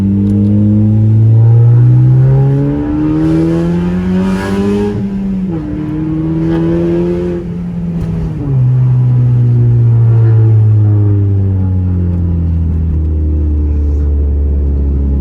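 A car on a test drive just after an oil change pulls hard through its gears, the engine note climbing loud and close, then dropping at each shift before rising again, with no talking.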